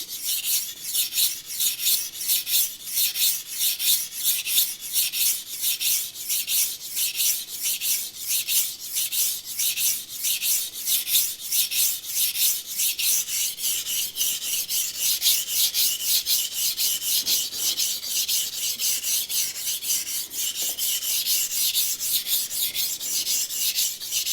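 Knife blade drawn repeatedly across a sharpening stone, each stroke guided with a finger. Steady, close rasping strokes repeat rhythmically throughout, with no voices.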